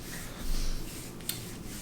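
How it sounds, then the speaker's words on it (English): Palms rubbing together, a soft, dry, brushing friction that swells briefly and then fades into a quiet rasp, with one small tap near the end. "I don't like the sound of you rubbing your hands together"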